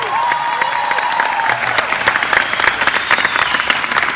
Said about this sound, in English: Give yourselves a round of applause and your dream a round of applause.